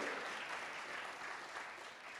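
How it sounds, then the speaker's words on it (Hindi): A church congregation claps together in praise during a fasting prayer service, a steady dense wash of hand claps that holds evenly for a couple of seconds at moderate volume with no talk over it. "ताली बजा के प्रभु को आदर करेंगे"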